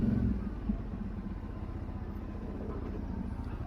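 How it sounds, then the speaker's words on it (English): A 2024 Kawasaki Brute Force 750 ATV engine braking on a rough trail. A low, steady engine rumble fades slightly from an initial louder moment, with no voices heard. "Once again, the engine braking is so good."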